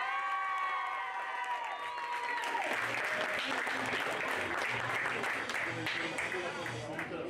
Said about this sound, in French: Applaudissements pour la médaille de bronze